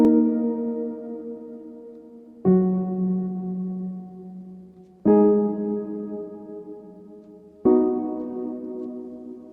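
A keyboard plays a simple chord pattern of four sustained chords struck at an even, slow pace, each ringing out and fading before the next, alone with no voices.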